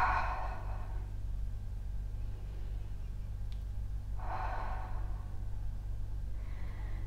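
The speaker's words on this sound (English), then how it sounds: "and exhale through the mouth" Breathing during a yoga stretch, two soft exhales through the mouth several seconds apart, close and gentle over a low steady room hum.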